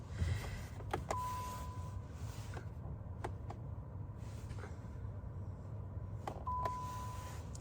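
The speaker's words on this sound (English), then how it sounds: "I'm going to start the car and get some more light." A Volkswagen ID Buzz electric van being started in a quiet cabin: a few soft clicks and two short electronic beeps, with no engine noise.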